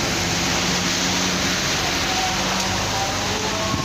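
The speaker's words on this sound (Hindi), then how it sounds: "तेज़ बारिश हो रही है" Dense, continuous rush of heavy rain pouring down close by in Dadyal, Azad Kashmir, a broad steady hiss with no breaks.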